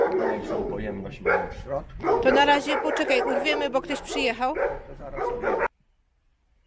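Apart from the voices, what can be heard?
dogs barking on a farm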